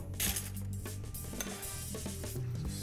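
Orange peel is stirred with cognac and sugar in a bowl, a metal spoon clinking and scraping against the sides in quick, uneven strokes, close and fairly quiet.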